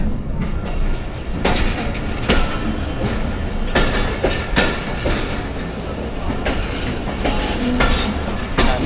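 Two trains pull out together from Sangla Hill Junction, a steady rolling rumble with rhythmic clickety-clack wheel beats and occasional sharp clanks, loud and continuous throughout.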